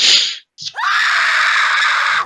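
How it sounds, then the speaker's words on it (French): A woman lets out a terrible, drawn-out scream as a horror tabletop RPG sound effect, preceded by a short sharp cry, then one loud sustained shriek that cuts off abruptly. "un hurlement féminin. Terrible."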